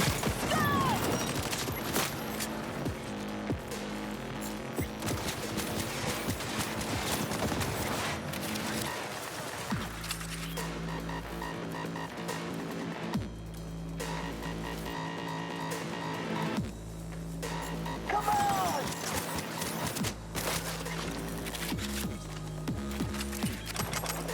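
Assault rifle gunfire in the game Cyberpunk 2077, bursts of rapid automatic shots mixed with mechanical clanks and game music, loud and dense throughout with brief pauses between volleys.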